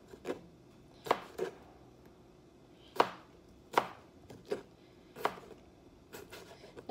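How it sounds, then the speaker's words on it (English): A knife slices potatoes thinly on a cutting board for zuppa toscana soup, producing about ten crisp, close chops in an uneven rhythm with quiet pauses between strokes. "And then I'm going to start slicing it kind of thin."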